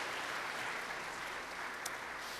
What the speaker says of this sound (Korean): 우리 한번 다시 박수 한번 할까요?